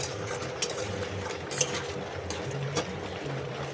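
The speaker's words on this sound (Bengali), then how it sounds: "এবার এর মধ্যে আলুগুলো একটু গুলে দেব।" Potatoes are stirred and mashed into a simmering soybean curry in a pot, giving a soft, close bubbling and scraping with occasional sharp clinks of the spoon against the pan, and no voices.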